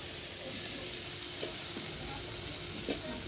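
Potatoes fry with a spice paste in a pan for a soybean curry, giving a steady soft sizzle with faint stirring scrapes and a couple of brief clinks, heard alone.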